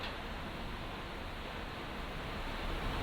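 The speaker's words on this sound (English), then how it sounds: "It's like there's some annoying, incessant white noise in here which can't be removed." A fan in a classroom produces a steady, broadband hiss of white noise, constant and unchanging throughout, with no voices over it.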